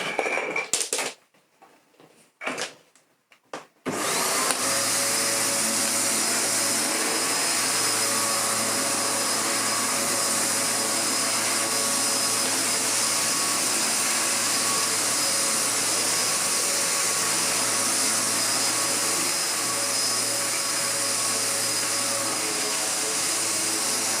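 A restored Hoover DustManager DM4450 vacuum cleaner switches on after a few bumps and brief starts, then runs as a loud, steady whining roar while pushed over a rug, with no voices.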